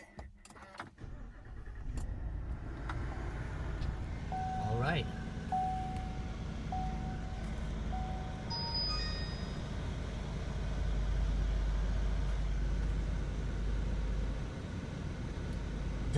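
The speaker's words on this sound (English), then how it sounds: "Let's go ahead and turn this vehicle on." A 2025 Chevrolet Silverado 2500HD turns over and settles into a steady idle, its engine a continuous low rumble heard from inside the cab, with a brief spoken remark at the start and a faint chime partway through.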